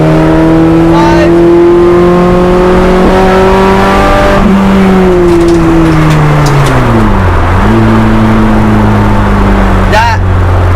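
A Honda Integra Type R DC2 race car with a swapped-in H22 engine accelerates hard as VTEC engages. The engine note is loud and close, climbing steadily with brief dips at gear changes.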